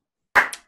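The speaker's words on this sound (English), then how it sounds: "Can we get another clap for this one?" A short burst of hand clapping at a chess league broadcast, a single quick round lasting under a second, fairly close and crisp.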